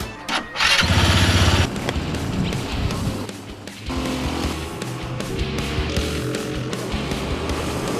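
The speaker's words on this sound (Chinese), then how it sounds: "刺激的引擎声响彻云霄" Several go-kart engines roar and whine together at close range on a race track, loudest briefly near the start, then a steady, layered engine drone without speech.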